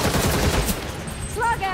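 A short burst of gunfire in the Gotham Knights game: a few sharp, loud shots in quick succession, followed by a brief whine of other game effects.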